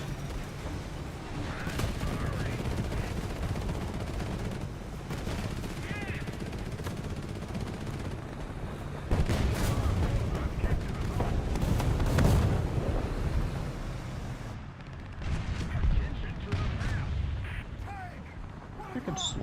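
Recoilless rifles and machine-gun fire in War Thunder, heavy booming blasts mixed with rattling gunfire, continuous and dense, with louder explosions around the middle and a voice talking over the combat.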